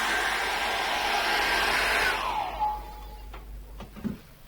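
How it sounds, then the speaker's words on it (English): A hair dryer blows with a loud, steady whoosh and whine for about two seconds, drying an acrylic painting, then winds down and clicks off, leaving quiet room noise. "I'm going to dry this off now with a hairdryer."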